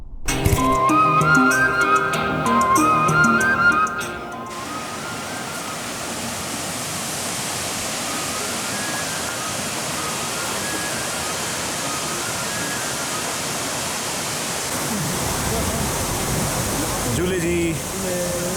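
Sila waterfall in Zanskar Valley roars as a steady, loud broadband rush from start to finish, with a brief jumble of other sound layered over it in the opening seconds.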